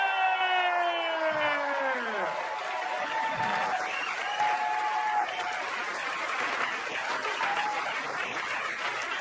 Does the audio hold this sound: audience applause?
yes